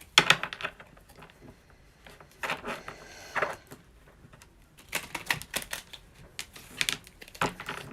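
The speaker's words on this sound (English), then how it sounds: "I'm already shuffling Divine Masculine cards here" Divine Masculine tarot cards being shuffled by hand, quick crisp riffles and snaps coming in bursts with short pauses between them, close and fairly quiet with no talking.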